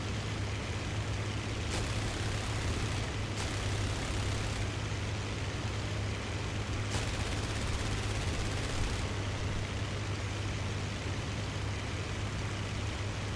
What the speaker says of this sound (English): I might as well go in and strafe some of these guys